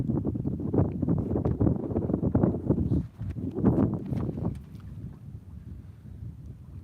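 Wind gusts roar across the microphone aboard a small sailboat under sail with its jib partly out, blustery and uneven, surging loud then easing off toward the end.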